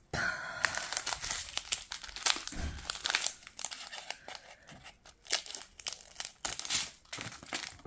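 Plastic packaging from a Dragon Mask diamond painting kit crinkles and crackles steadily as it is opened up close, with bursts of louder crunching throughout.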